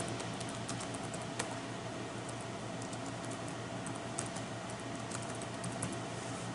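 A computer keyboard is tapped in quick, uneven bursts as a page name is typed, light close clicks over a steady faint background hum, with no talk.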